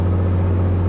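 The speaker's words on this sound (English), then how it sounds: "So I'm going to give it full throttle." Aircraft piston engine held at full throttle during a run-up inspection, a steady loud droning hum with a strong low tone, continuous and close, no talking.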